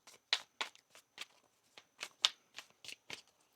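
A deck of tarot cards being shuffled: a string of about ten short, crisp riffling bursts at an uneven pace, fairly faint and close, with no voices.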